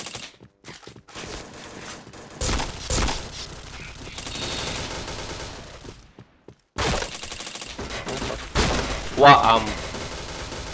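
Rapid gunfire bursts and single shots in the online shooter game Point Blank, loud and close, broken by short gaps, while a player talks and exclaims over the action.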